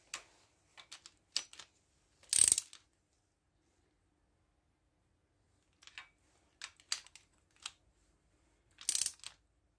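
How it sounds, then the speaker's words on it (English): Torque wrench tightening cylinder head bolts on a Kawasaki KZ1100 motorcycle, heard as sparse close clicks and ratcheting ticks with a few sharper metallic snaps, separated by silent gaps. "it didn't click on the torque wrench"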